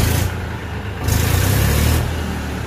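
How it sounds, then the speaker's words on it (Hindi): Diesel tractor engine idling steadily at low RPM after starting, a continuous low rumble with a slight rise in the middle, close and alone. "तो कैसे लगी ट्रैक्टर की आवाज़"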